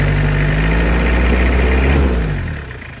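A Mighty-X Cab pickup truck engine idles with a steady low rumble and vibration, loud and close, then fades slightly near the end.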